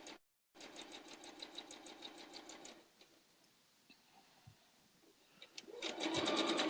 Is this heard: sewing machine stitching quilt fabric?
yes